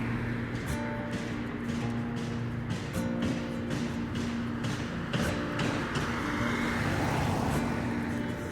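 Cars pass continuously along a busy city road in King's Cross, London, recorded from the roadside, with a steady traffic rumble and repeated swells of tyre noise as vehicles go by close.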